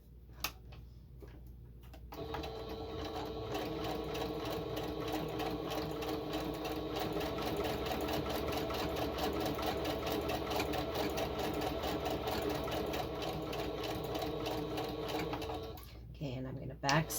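Sewing machine running steadily for about fourteen seconds while stitching an envelope journal, a rapid even whir and tick close up, starting and stopping with brief pauses at each end.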